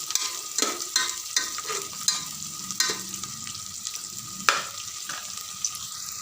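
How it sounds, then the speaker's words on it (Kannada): Onions fry in oil in a pan as a spoon stirs them, with a steady bright sizzle broken by repeated scraping strokes and clinks. Close and fairly loud, with no voices. "ಪೂರ್ತಿಯಾಗಿ ಉಳ್ಳಾಗಡ್ಡಿ ಪೂರ್ತಿಯಾಗಿ ಎಣ್ಣೆಯೊಳಗೆ ಫ್ರೈ ಆಗುವವರೆಗೂ ನಾವು ಇನ್ನು ಹುರ್ಕೋಬೇಕ್ರಿ"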